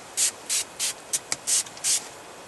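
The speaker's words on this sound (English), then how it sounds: "We're just going to spray down some of this blind." Cover scent sprayed from a 3D Hunting Supply bottle onto a hunting blind: five distinct hissing spray bursts in an uneven rhythm, close and fairly loud, with a couple of faint clicks of the trigger between them.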